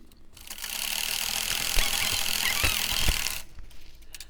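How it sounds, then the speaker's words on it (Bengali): A sewing machine double-stitching a baby's fatua: a steady, fast mechanical whirring runs for about three seconds with faint knocks inside it, then stops, leaving quiet rustling. "এখানে আমি ডাবল সেলাই দিয়ে নিচ্ছি।"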